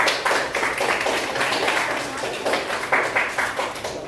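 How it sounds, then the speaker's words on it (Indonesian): A Grade 8 class claps together in a steady burst of applause that carries on for several seconds, fairly close and lively, with no talking over it. "Tepuk tangan untuk kita."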